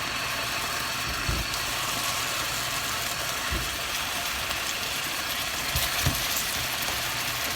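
Continuous broad crackling hiss of sliced onions sizzling in a hot pan, with a few soft low knocks and clunks now and then.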